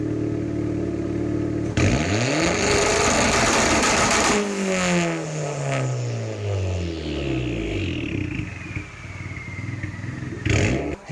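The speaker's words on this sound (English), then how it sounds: "And it sounds like a little mini turbo diesel." A Honda car fitted with a new exhaust revs repeatedly, its rising and falling engine note and gravelly exhaust rasp resembling a small turbo diesel, heard close and loud with clattery overtones between rev sweeps.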